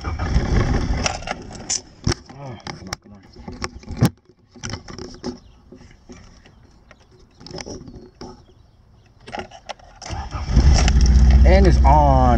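A car engine cranks and catches after a jump start, settling into a loud, steady idle near the end, with people talking over the earlier attempts and birds faintly audible.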